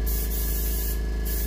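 Paint spraying onto a muskie being finished for taxidermy makes a close, continuous hiss, unbroken and even in loudness from start to finish.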